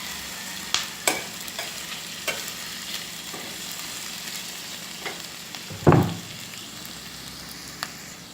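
Onions sweating in a frying pan for a shrimp in coconut milk dish, a quiet steady sizzle with occasional scraping stirs and one louder clatter of the utensil against the pan partway through, no talking.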